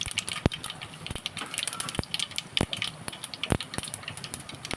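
Mustard seeds and cumin crackle in hot oil in a pan, with a steady run of sharp pops and spits at moderate volume, with no talking.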